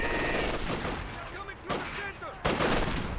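An LMG machine gun rattles in Company of Heroes 2 during a 1v1 match, dense bursts of battle fire under constant noise, with a loud burst near the end.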